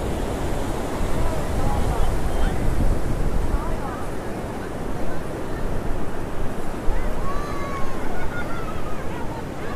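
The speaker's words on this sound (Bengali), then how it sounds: "সমুদ্রের গর্জন শুনতে পাচ্ছি।" Roaring surf on the shore at Bakkhali on the Bengal coast, a continuous loud wash of breaking waves with wind buffeting the microphone throughout.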